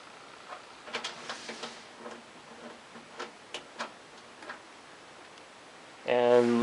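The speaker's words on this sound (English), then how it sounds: "I'm just going to screw these back on right here" Screws being driven back into an eMachines T2895 desktop computer case, giving a run of faint, irregular small ticks and clicks close by in a quiet room, followed by a brief louder burst at the end.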